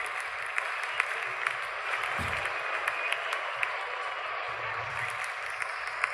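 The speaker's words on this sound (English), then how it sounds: "In come the openers, greeted with a loud cheer." A stadium crowd at a T20 India versus West Indies cricket match keeps up a continuous, distant roar of cheering and clapping as the openers walk out, with a few sharp claps standing out.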